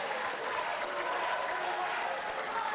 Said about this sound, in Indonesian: kita beri tepuk tangan untuk kedua calon gubernur.